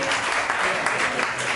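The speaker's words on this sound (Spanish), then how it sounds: "Un aplauso a la mosca, por favor." Audience clapping at a science talk, a dense steady burst of applause lasting under two seconds, loud and close, with no voices standing out.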